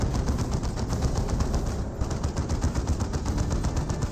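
Rapid gunfire from the Dawn of War 2 strategy game rattles in a dense, continuous stream with a steady rhythm and no talk over it.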